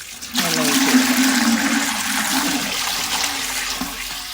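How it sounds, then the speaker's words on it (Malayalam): Water pours in a steady rushing splash for about four seconds while fertilizer is mixed for bougainvillea plants. "ഇനി കുറച്ച് വെള്ളം ഒഴിച്ച് നമുക്കൊന്ന് മിക്സ് ചെയ്ത് കൊടുക്കാം"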